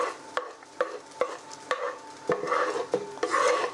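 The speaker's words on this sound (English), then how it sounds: "so just stir those in" An aubergine and red pepper curry cooks in a pan, with a soft sizzle under repeated, evenly spaced spoon knocks and scrapes as it is stirred, close and moderately loud.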